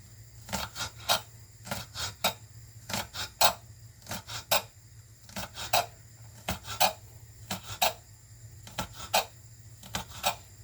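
Repeated short rasping scrapes of a knife across a chopping board while chopping spring onions, in quick irregular bursts with a low steady hum underneath.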